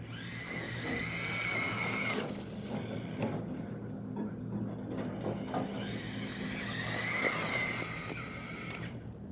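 An RLAARLO AM-X12 radio-controlled car on a 2S battery drives on wet ground in the rain, its whining motor rising and falling through two accelerating passes over a steady watery hiss, moderately close and fairly quiet.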